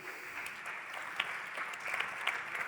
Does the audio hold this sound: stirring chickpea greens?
no